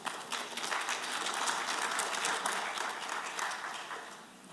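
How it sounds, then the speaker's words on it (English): An audience at a transport and logistics conference session applauds the speaker before a Q&A, a dense, sustained wash of clapping that holds steady and fades slightly near the end, with no talk over it. "I would like to ask the audience, please, to give the applause all to our speaker before we start the Q&A."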